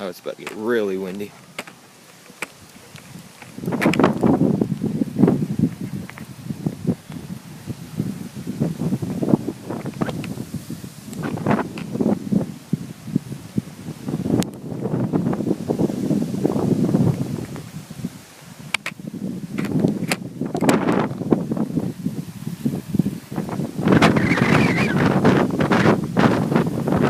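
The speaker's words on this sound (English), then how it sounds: "Wow, it's gusting pretty hard." Hard gusting wind in a severe thunderstorm under a shelf cloud roars against the microphone in surging waves, with a person speaking over the gusts.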